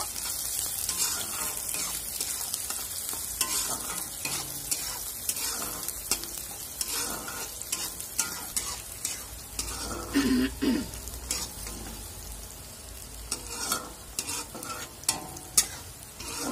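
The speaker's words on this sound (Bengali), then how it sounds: "পেঁয়াজটা একটু ভেজে নেব।" Chopped onion sizzles and crackles in hot oil in a kadai, with steady frying hiss and repeated scraping stirs of a spatula, close and continuous, with no voices.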